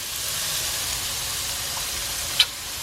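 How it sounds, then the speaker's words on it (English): Small chopped onions with garlic and a pinch of salt sweat gently in a warm pan, giving a steady, soft, close sizzle and hiss with one brief clink near the end, no voices. "So now I'm just sweating down my onions."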